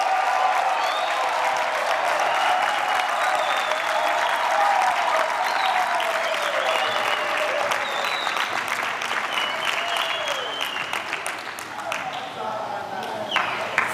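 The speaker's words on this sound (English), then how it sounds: "And let's give them a round of applause." Sustained applause from a large audience at a university graduation ceremony, dense and steady for over ten seconds before thinning slightly near the end.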